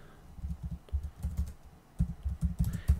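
Typing on a computer keyboard, quick clusters of soft close key clicks in irregular bursts over about three seconds, with no talking.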